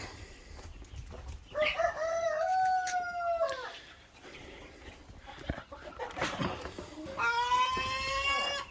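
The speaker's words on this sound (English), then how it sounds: "So I'll feed these birds real quick." Chickens crow and squawk in drawn-out calls, a long one early and another near the end, with a dog-like howling quality, fairly close.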